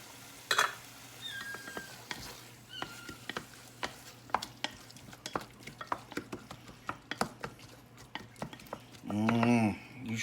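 Peppers go into a hot pan for cheese dip, with sharp scrapes and clinks of a utensil stirring against the pan at an irregular pace, a steady low sizzle underneath, and a brief voice near the end.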